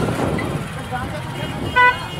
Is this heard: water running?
no